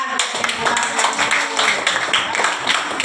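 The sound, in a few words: classroom applause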